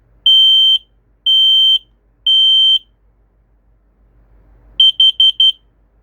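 Smoke detector under test gives three long loud electronic beeps, then a rapid burst of four shorter beeps, alone in a quiet room.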